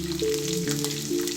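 Green chillies crackle in hot oil in a pan with tempering seeds, a soft continuous sizzle for curry beneath a steady musical tone.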